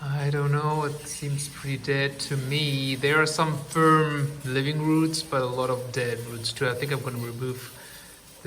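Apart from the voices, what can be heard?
None of the usual background noises is heard.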